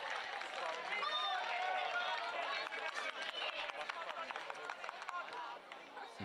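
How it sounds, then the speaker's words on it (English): Home crowd at a Central League football match between Napier City Rovers and Wellington Phoenix Reserves, a steady wash of distant chatter and cheering with scattered claps that rises in intensity, heard beneath a commentator's continuous talk. "You can just hear the home crowd starting to turn the volume up a little bit now"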